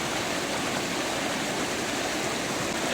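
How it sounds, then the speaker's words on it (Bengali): A fast, cold river in a mountain village in North Bengal rushes in a steady, loud, unbroken roar close by, heard alone with no talking. "জল কিন্তু যথেষ্ট জোরে বইছে"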